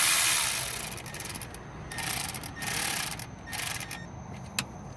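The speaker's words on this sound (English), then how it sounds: "Get this bolt snug." Ratchet tightening a 12 mm bolt on the alternator of a 2009 Toyota Corolla, giving several bursts of quick clicking separated by short pauses, close and fairly loud with no talk.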